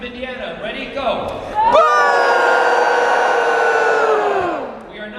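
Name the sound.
convention panel audience booing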